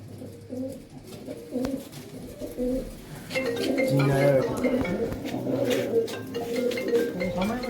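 Pigeons coo in soft, repeated low calls close by, with people talking over and around them throughout.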